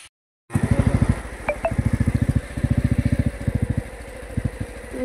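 A motorcycle ridden along a border road gives a close, throbbing engine note with rapid regular pulses that hold steady, briefly dip, then resume, with no speech.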